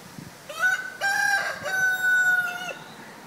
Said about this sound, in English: the rest of the chickens are coming closer and closer to our yard